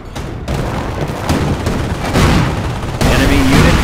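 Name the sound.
gunfire in the video game Company of Heroes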